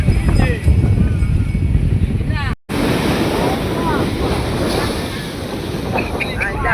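Sea waves at Arichal Munai beach, with steady surf and heavy wind rumble close to the microphone, a brief dropout partway through, and a person talking over the noise.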